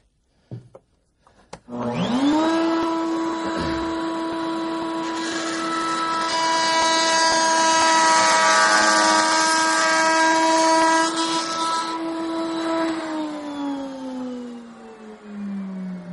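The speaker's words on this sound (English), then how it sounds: "We'll let that router die down." A handheld wood router spins up and cuts an edge on a workpiece, a loud steady whine with strong harmonic tones that holds for about eleven seconds, then winds down as the motor slows, close and alone.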